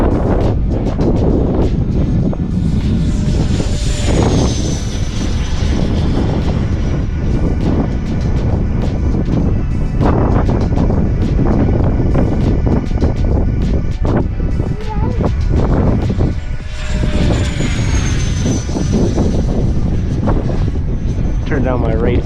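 An RC F-16 electric ducted fan jet whines overhead in high winds, its pitch rising and falling as it passes, nearly buried under constant heavy wind buffeting on the microphone.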